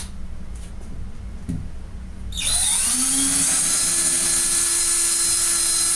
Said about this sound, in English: Okay, now for the drilling.